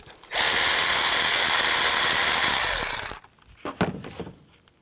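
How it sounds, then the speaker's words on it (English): A power tool turns a 10mm socket to back a bolt out of a 2003-08 Nissan Maxima during valve cover work, whirring loudly and steadily for about three seconds, then stopping before a few faint clanks and knocks. "Take a 10mm socket and take this bolt out right here."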